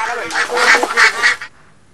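Pekin ducks quack loudly and close by in a quick run of harsh calls, then fall abruptly silent.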